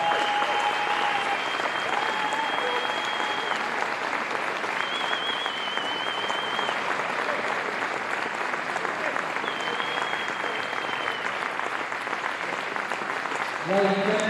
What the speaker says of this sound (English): Ladies and gentlemen, big round of applause for Tintin Watts.